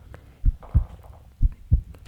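Double-thump heartbeat used as a sound effect in a K-pop music track, two lub-dub pairs in a steady slow rhythm, deep and prominent over a faint musical bed.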